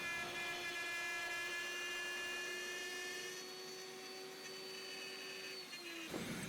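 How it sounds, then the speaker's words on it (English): Handheld router plunge-cutting with an 8mm straight bit against a marked fence, a steady high-pitched motor whine with strong tonal harmonics that holds, then drops in pitch as the bit winds down near the end. "I have put some marks on the fence of my router, as you can see, so I know where to do the plunge cut"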